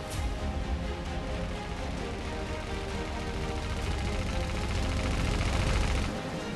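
Naval gunfire from the Warships Mobile 2 video game sounds as a dense, continuous barrage of loud, overlapping cannon and machine-gun bursts that rolls on for several seconds before cutting off.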